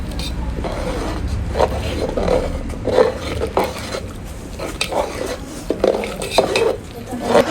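A spoon scraping and clinking in a pot of semai vermicelli simmering in milk, with irregular metallic taps and scrapes close by over a steady background hum.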